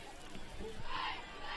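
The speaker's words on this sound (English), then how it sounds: "I'm looking at these East Lyme cheerleaders still cheering away down there" East Lyme cheerleaders cheering at a football game, a faint distant crowd roar with blended chanting voices across the field, steady and low in level.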